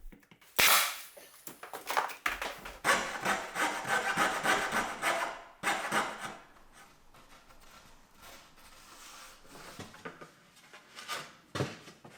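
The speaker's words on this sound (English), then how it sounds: "Once I have the fit that I want, I go back through and I nail it off" Finish carpentry on bedroom trim: a sharp close pop of a 16-gauge nailer firing, then scattered scraping, rubbing and knocking of wood and tools, with a few more isolated snaps later on.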